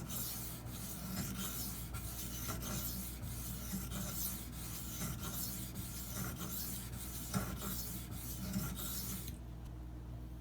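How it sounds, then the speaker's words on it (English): A Spyderco Endura knife with a K390 steel blade scrapes back and forth across a whetstone in soft, rhythmic rasping strokes, quiet and close with no voices. "Just going to sharpen both sides until I develop a burr, and then move on to a finer grit."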